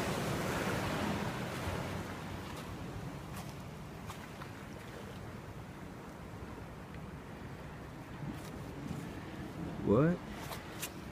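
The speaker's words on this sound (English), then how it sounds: "But I do see big waves coming in." Big ocean waves roll in at tide pools at night, a continuous close wash of surf with wind rumble on the microphone and a brief louder splash near the end.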